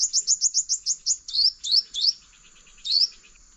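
A recorded bird call, used as a lure for bird trapping, plays back clearly: a quick run of sharp repeated chirps followed by a few slurred, rising whistles with short pauses.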